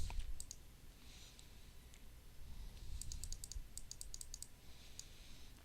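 A computer mouse clicks while mapping software is edited, giving isolated sharp clicks near the start and a quick burst of several clicks in the middle, all close and fairly quiet over a low background rumble.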